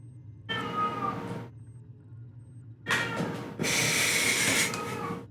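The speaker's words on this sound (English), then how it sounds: "So my cat is being very noisy." A house cat meows loudly and repeatedly nearby, giving several drawn-out cries in a quiet room, with no talking.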